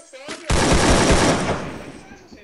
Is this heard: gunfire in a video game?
yes